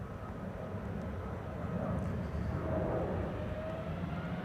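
A jet airliner departs Amsterdam Schiphol's Polderbaan runway 36L bound for Madrid, a steady broad distant engine roar that swells slightly toward the middle and holds without talk.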